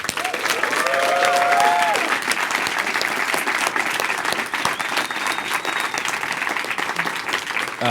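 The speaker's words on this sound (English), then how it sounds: "Jim, give him a round of applause" A crowd applauds at length for comic artist and DC Comics co-publisher Jim Lee, steady dense clapping with scattered cheers and whoops, a few voices rising briefly above it.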